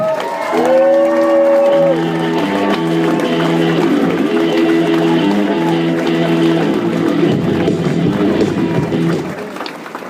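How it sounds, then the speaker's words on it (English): A comedy club crowd applauds and cheers a comedian, a loud sustained roar of clapping and whoops under a strong held musical tone that fades out near the end. "Give a huge round of applause for the very funny Steve Rannazzisi, everyone"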